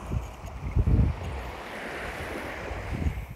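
Sea waves wash onto the shore by the South China Sea, low rumbling surges rising and falling in a couple of swells, with steady wind buffeting the microphone underneath.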